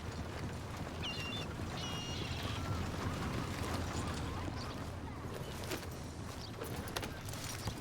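Horse hooves clip-clopping steadily through Red Dead Redemption 2, the rhythmic footfalls of a mounted ride heading south, a dense continuous patter mixed with ambient game sound.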